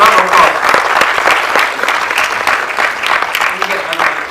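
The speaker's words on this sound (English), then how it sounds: "a round of applause." An audience at a professional symposium breaks into applause, a sustained, lively clatter of many hands that continues steadily, with a voice faintly audible beneath it.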